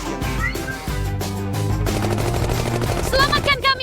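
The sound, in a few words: gunfire shooting in a cartoon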